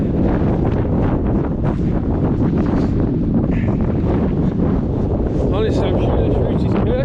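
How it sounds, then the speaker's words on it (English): Strong, steady wind buffets the microphone on a Lake District fell walk near Loughrigg, with a continuous loud rumble and roar, gusting throughout. "It's windy again, but It's not quite as bad this time"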